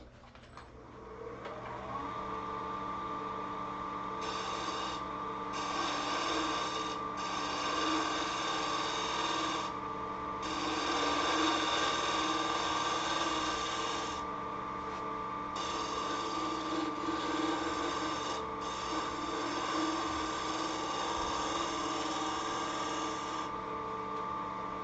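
A segmented wood vessel spins on a lathe with a steady whirring motor hum, broken by several bursts of brighter scraping as a gouge cuts the wood, continuous and close.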